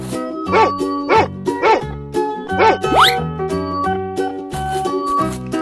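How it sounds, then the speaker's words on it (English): Cartoonish dog barks from a 3D animal slide game, a few short repeated yaps over bouncy background music with playful sound effects. "Dog."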